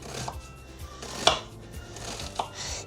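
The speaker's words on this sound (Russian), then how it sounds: "Я взял одну луковицу и сейчас меленько порежем" A kitchen knife cuts an onion into fine pieces on a board, giving a few sparse, crisp strikes spaced apart over a quiet background.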